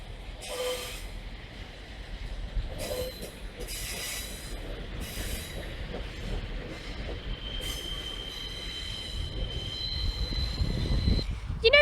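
A class 142 Pacer diesel multiple unit rolls through Manchester Piccadilly station, wheels squealing with high-pitched screeches over a steady rumble and clatter that builds louder toward the end.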